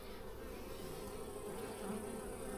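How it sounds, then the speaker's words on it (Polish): Honey bees buzz steadily around a hive entrance while many workers find their way in; a dense, continuous drone of many wings holds close and even throughout, with no talking. "pszczoły bardzo szybko się nauczyły, którędy trzeba wchodzić. I sobie wchodzą."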